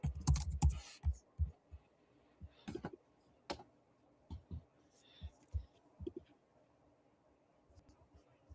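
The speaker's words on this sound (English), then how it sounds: "I can hear you clicking on the computer." Computer keyboard keys click in irregular, scattered taps, faint and close, with quiet room noise between them and no talk.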